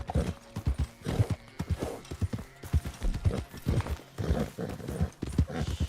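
A horse in the video game Red Dead Redemption 2, with repeated clip-clop hoofbeats in uneven bursts close up and a whinny among them, no talking.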